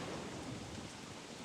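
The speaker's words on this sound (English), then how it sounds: "It's wet and rainy." Rain and thunder from the video game Don't Starve Together make a soft, steady wash of rainfall with a low rumbling undertone, faint and continuous with no talking.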